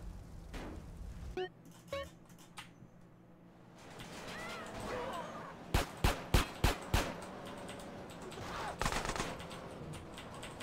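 Enemy gunfire in a video game: a burst of five sharp, loud shots in quick succession midway, with scattered nearer bangs earlier and another cluster near the end over a busy game background.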